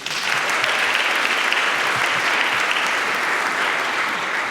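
An audience at the European Charlemagne Youth Prize ceremony in Aachen claps steadily, a full, even round of applause holding at constant loudness throughout.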